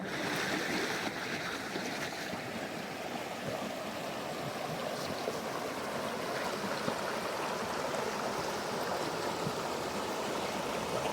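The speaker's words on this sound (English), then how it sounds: "Stop number 1 says, listen to the Roaring Fork River. It's icy cold." The Roaring Fork River, an icy cold mountain river at Independence Pass in Colorado, rushes steadily in a dense, unbroken roar, close and loud, with no voices.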